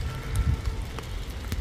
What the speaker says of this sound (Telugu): వర్షం బాగానే పడుతుందండి